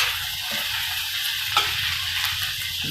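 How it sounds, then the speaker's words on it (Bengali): Ginger being stir-fried in a pan: an even sizzle broken by a few light clinks and scrapes of a stirring utensil, close and moderately loud, with no one speaking. "আর এইগুলো কিছুক্ষণ নাড়াচাড়া হবে, একটু হালকা ভাজা ভাজা হলে"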